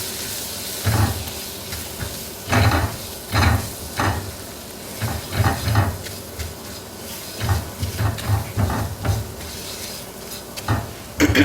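A butter and flour roux cooks in a frying pan, with a soft sizzle underneath and irregular scraping bursts as it is stirred, heard close and moderately loud.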